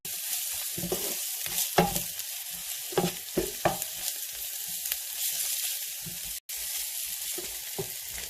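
A spoon stirring red curry powder through a sizzling pan, steady frying hiss with intermittent scraping and clinking strokes, close up and with no talking.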